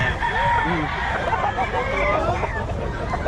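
A rooster crows amid nearby chatter and crowd noise at a chicken-selling spot in Bocaue, Philippines, with other fowl clucking in the background.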